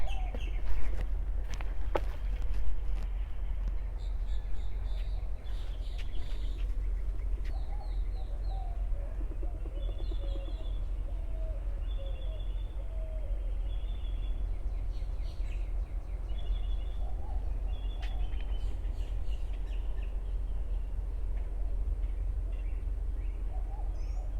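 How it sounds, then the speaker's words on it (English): Several birds chirp and sing outdoors, with repeated short calls over a steady low background hum. "I want you guys to just hear the birds."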